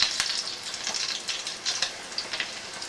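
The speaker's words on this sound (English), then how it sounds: "So I'm going to go ahead and fry all these off." Frozen chicken egg rolls deep frying in hot oil, giving a steady, moderately loud bubbling sizzle with small crackling pops throughout, no talking.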